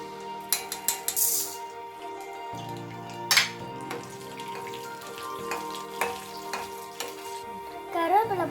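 Mustard seeds sizzle in hot coconut oil in a pan, a crackling hiss with sharp pops and clinks of a spoon against the metal, close and without talk.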